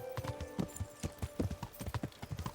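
Horse hooves clip-clop at a brisk, steady rhythm in the medieval video game Kingdom Come: Deliverance, close and clear, with faint background sound and no talk.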